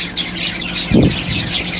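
A pet bird chirps in a busy stream of high tweets and calls, loud and close, with a brief low thump near the middle.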